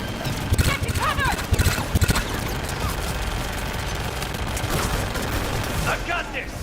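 Gunship guns in Mass Effect 3 hammer out rapid, loud automatic fire over a dense, constant battle din, with clusters of sharp shots early on and voices shouting through the chaos.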